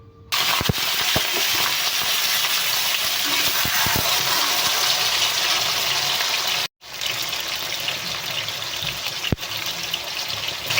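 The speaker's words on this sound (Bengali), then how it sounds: "তো দেখো গাজর, মটর আর বিন নিয়েছি। তো এখন আমি ভাজা করে নেব" Carrots, peas and beans hit hot oil with a loud, steady sizzle that keeps up for several seconds, broken once by a brief gap before the frying resumes.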